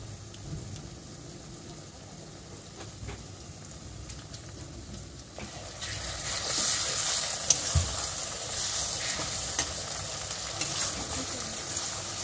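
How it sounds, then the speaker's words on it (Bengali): A steady, moderately loud sizzle of masala with ginger-garlic paste frying in a pan for capsicum chicken, growing brighter and fuller about halfway through, with no talking. "ভালো করে মশলাটাকে কষিয়ে নেওয়া হবে"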